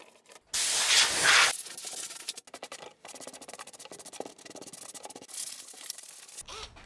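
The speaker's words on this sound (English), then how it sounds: "I'm using sandpaper to scruff up the surface better." Sandpaper scuffs a surface inside a BMW E38 750iL during interior restoration, with a loud opening burst of rough hiss followed by repeated short, uneven rubbing strokes, close and alone.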